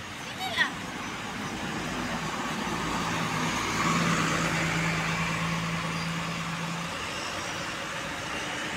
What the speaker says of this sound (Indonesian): Di susul ada bus Restu Panda.